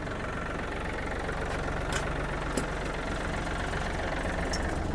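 A Yanmar AF-28 mini tractor runs with its side-gearbox rotary tiller engaged, a close, steady low diesel chug with even rhythmic knocking and a few faint clanks over the top.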